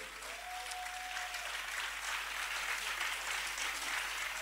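A congregation applauding in praise of God, with steady sustained clapping from a crowd that fills the room evenly throughout.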